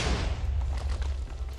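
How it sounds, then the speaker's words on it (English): TNT explodes repeatedly in a video game, a dense rumbling barrage of overlapping booms and pops that rolls on continuously at moderate loudness. "the TNT explosion has finally finished."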